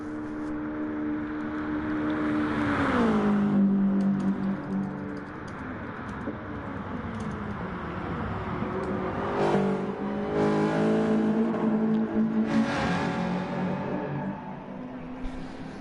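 Race cars in a Group 4 class crossing the finish line at the Nürburgring Nordschleife during a two-hour endurance race, their engines droning steadily with pitch shifts as several cars pass in turn, fairly loud and continuous throughout.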